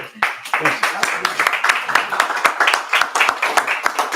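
An audience at an author event breaks into applause, a dense run of close hand claps that rises and stays busy for several seconds.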